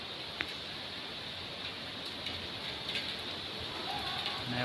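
Rain falling steadily around a housing society near a highway, a continuous close hiss with faint scattered drop ticks that swells slightly louder toward the end; no one speaks.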